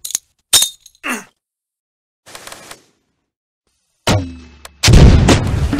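Gunfire in the Close Combat strategy game: sharp isolated shots, a pause, a muffled burst, then a loud blast and a heavy sustained roar of fire near the end.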